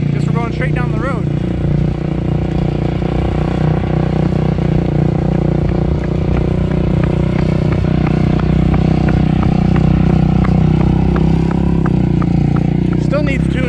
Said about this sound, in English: Still needs tuned up pretty good. Backfires.